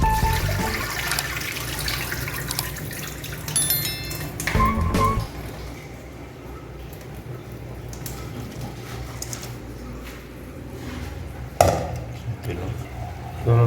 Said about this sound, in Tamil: நம்ம பட்டை கிராம்பு தண்ணி ஊற்றணும்